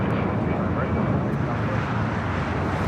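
An airliner taking off from runway 25 right at LAX, a loud, steady broadband jet roar heard close and continuous, with a voice talking over it.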